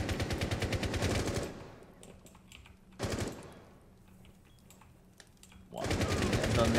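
Gunfire in the video game Rainbow Six Siege, two rapid automatic bursts of close, loud rattling shots separated by quiet gaps, with a third sustained burst at the end.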